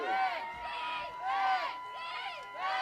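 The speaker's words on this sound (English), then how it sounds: "Minnesota crowd trying to pump up the defense." A Minnesota crowd at a Slam Football game cheers and shouts to pump up the defense, a steady roar that surges in waves, rising and falling.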